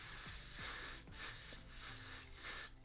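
Spray bottle misting a wig's lace down, several quick hissing bursts in a row, close and fairly loud.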